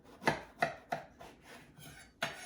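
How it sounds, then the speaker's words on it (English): Knife cutting through an aubergine on a board: several crisp, close chopping strokes in a loose rhythm, then a softer scraping stretch and one final firm cut, with no voices. "No need to cut the ends off the aubergine, just cut it in half"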